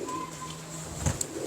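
Teddy pigeons kept in a loft in Wah Cantt coo and call softly for a moment, with a faint steady background hum behind them.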